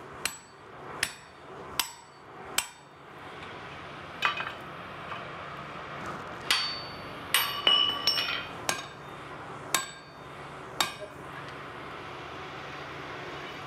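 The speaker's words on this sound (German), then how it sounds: "Als erstes schlagen Erik Hofmann und Moritz Mendo Löcher in den späteren Handlauf." Blacksmiths hammering holes into a hot forged iron handrail in an art smithy in Würzburg, a dozen ringing metallic strikes at irregular intervals, close and clear over a low background hum.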